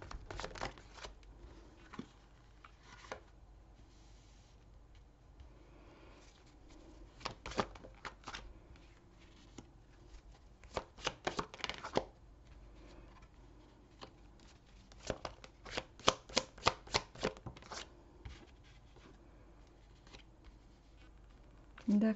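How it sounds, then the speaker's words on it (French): Tarot cards shuffled and dealt out for a nine-card spread, with soft riffling and sharp snapping flicks as cards are laid down one after another, close and fairly quiet, with occasional talk. "On va faire un tirage en 9 cartes."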